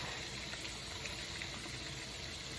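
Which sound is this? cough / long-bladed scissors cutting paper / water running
water running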